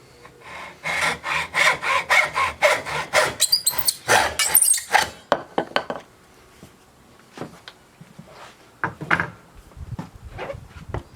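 A hand saw cuts through bamboo for a small-primate feeder in quick, rhythmic back-and-forth rasping strokes, close and fairly loud, before fading into quieter scraping and handling noises.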